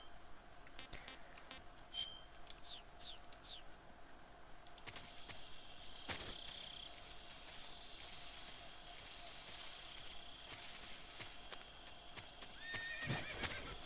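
Hoofbeats clop and a horse neighs in the Metal Gear Solid 3 video game, faint clip-clop under a noisy ambient bed, with a short whinny near the end and scattered sharp clicks.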